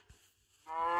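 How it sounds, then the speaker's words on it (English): A cow moos in Minecraft, a loud harmonic call rising abruptly after a brief quiet, with game sounds and distant dinosaur-age creatures around it. "Get the cow."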